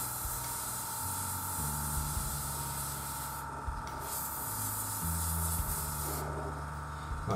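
An airbrush sprays paint onto a plastic scale model during preparation work. It gives a soft, continuous hiss with a few brief breaks, while quiet low tones shift underneath.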